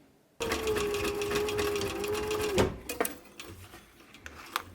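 A sewing machine stitches leather work mittens in a quick, steady whirring run lasting about two seconds, then stops, followed by faint handling clicks and rustles nearby.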